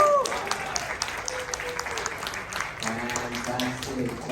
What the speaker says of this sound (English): Can we give everybody a big round of applause?